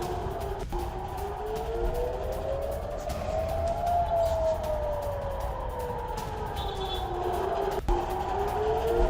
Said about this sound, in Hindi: जरा सुनिए किस तरह से हाइफा में एयर रेड सायरन सुनाई दे रहे हैं।